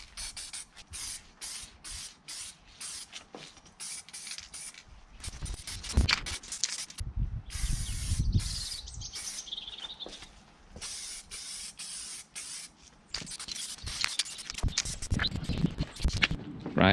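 Aerosol spray paint hisses in short repeated bursts as it coats engine bay parts from a Mk6 Fiesta, close and steady with brief gaps between passes.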